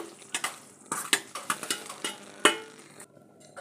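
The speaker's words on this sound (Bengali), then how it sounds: "মাছগুলো এবার এতে দেওয়া হচ্ছে" Prawns go into a simmering ginger-garlic-poppy-tomato gravy in a pan, giving a run of close clinks, splats and scraping stirs over a soft sizzle that falls quiet near the end.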